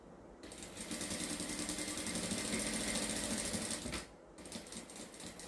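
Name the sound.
sewing machine stitching a baby shoulder cloth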